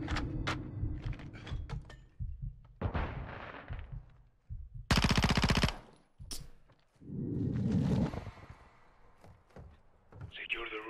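Rapid automatic gunfire from Call of Duty: Modern Warfare 2 campaign gameplay, a dense loud burst of machine gun shots lasting about a second amid other game effects and a player talking.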